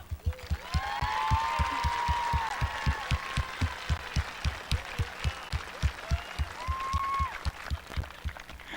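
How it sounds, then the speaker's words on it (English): Graduation ceremony crowd applauding in a large hall, a sustained wash of clapping with whistles and cheers over a steady, regular low thumping that runs through the whole stretch. "If everyone could please help me in a round of applause for my mom."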